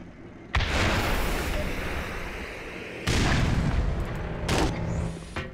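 TOW launcher in the video game Black Mesa fires and its missile explodes: two loud, booming blasts about two and a half seconds apart, each with a long rumbling tail, followed by a smaller burst.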